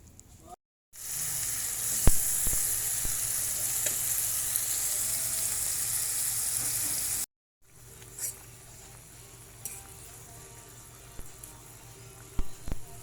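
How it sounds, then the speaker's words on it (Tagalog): Milkfish grilling over a wood fire, a continuous close hiss and sizzle that cuts off briefly, then returns quieter with scattered crackles and pops. "Wow, ang bango talaga ng bangos pag iniihaw."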